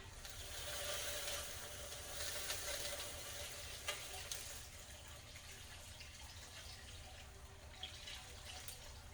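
Broth pours into a pot while egusi soup is cooked, a faint continuous splashing and sizzling hiss with small clinks, no voices.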